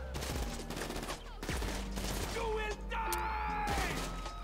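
Video game gunfire in GTA 5, rapid bursts of shots with sharp cracks and mechanical clatter, loud and continuous over a busy game soundscape with other in-game noises.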